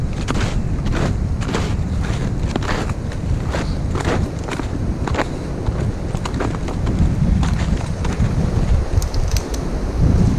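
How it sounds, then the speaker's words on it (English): Strong wind gusting across a snowy mountain ridge on a summit hike, a steady loud roar buffeting the microphone throughout, with crunchy step-like thumps and rustles repeating under it and no talk. "Strong wind again."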